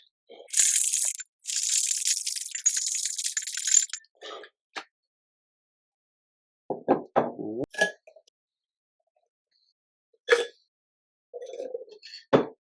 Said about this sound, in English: Make sure you have a tight seal on that and shake the shit out of it.